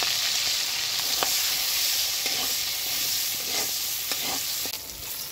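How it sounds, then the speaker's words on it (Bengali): Prawns fry in hot oil with turmeric and salt, giving a steady close sizzle with occasional stirring clicks and spatters and no talking. "চিংড়ি মাছগুলোকে দিয়ে দিচ্ছি, দিয়ে হলুদ লবণ দিয়ে ভেজে নিচ্ছি।"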